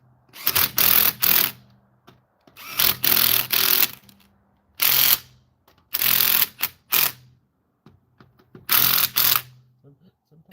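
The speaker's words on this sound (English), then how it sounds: "I'm just going to torque these guys down with the torque wrench." A torque wrench tightens wheel lug nuts on a 2020 Ford Escape during a front brake job, giving repeated short bursts of rattling ratchet clicks in groups separated by pauses, close and fairly loud.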